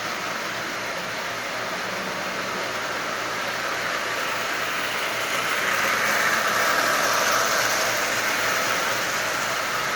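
A Marx 1666 toy train locomotive with slope-back tender runs steadily, giving a continuous low mechanical whir and hum that swells slightly midway, close and alone with no talk.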